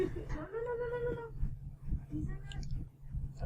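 A pet cat lets out a drawn-out, close meow with a rising then falling pitch, followed by fainter chirpy mews, heard under a voice and steady low room hum.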